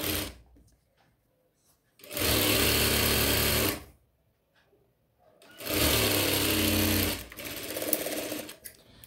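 A sewing machine stitches the lining of a chudithar top in two long bursts of rapid stitching, with quieter pauses and handling noise between runs.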